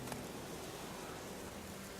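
Rain falling in The Witcher 3 video game, a steady hiss of even, continuous downpour with no talking over it.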